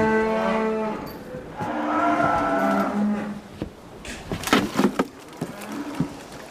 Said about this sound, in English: Oh, it's the cattle, sir.